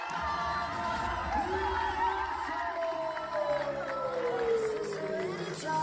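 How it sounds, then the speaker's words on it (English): Spectators at the HYROX European Championships 2023 cheer and shout for an athlete doing wall balls, a steady crowd roar with whoops that carries throughout, with a voice talking over it. "showing some great community and the people all cheering her on"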